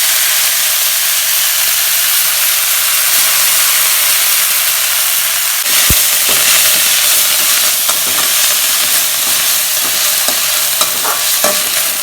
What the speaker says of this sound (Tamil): இதை நல்லா வணக்கி எடுக்கணும் அதனால் கொஞ்சம் எண்ணெய் கூட தான் போடுறேன்